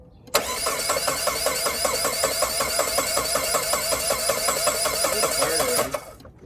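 A Saab 9-3 that has sat unused for several years cranks continuously for about five and a half seconds, a loud, even, rhythmic churning of the starter that stops abruptly without the engine catching into an idle.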